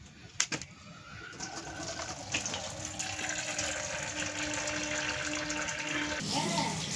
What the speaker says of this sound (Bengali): এবার একটু ঠান্ডা জলে এটাকে চাউটাকে ধুয়ে নেওয়া হচ্ছে।